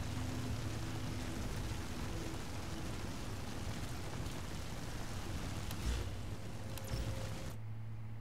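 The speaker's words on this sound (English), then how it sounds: "And it's raining." Steady rain hisses evenly throughout, a dense broadband wash with a low rumble underneath, continuous and fairly loud, cutting off sharply near the end.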